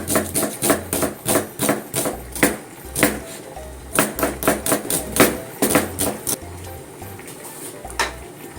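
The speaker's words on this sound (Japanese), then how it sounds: "薄切りします。" Cauliflower thinly sliced with a knife on a cutting board, a fast series of crisp chopping taps in irregular bursts, close and fairly loud, with no talking.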